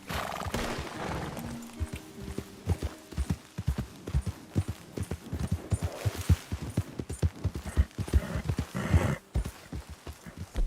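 A horse's hooves clip-clop in Red Dead Redemption 2, irregular thudding steps at close range, with whinnies and other game sounds mixed in.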